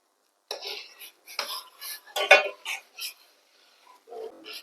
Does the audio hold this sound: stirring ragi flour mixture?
yes